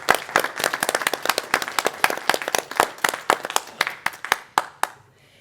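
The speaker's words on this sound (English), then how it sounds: "I think we should give them a round of applause too." A roomful of people at a state board meeting claps together in a brisk, steady round of applause that trails off into a few last claps.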